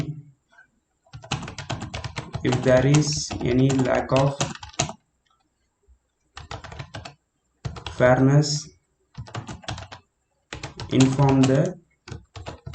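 Fast clicking of computer keyboard keys while an exam paper is written in a word processor, dense bursts of rapid keystrokes alternating with someone speaking between and over them.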